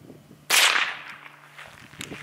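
A .22 LR Gia Interceptor round is fired into a plywood board, producing a single sharp, loud crack with a brief ringing decay, preceded and followed by quiet low background hum.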